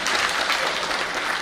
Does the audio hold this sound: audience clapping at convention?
yes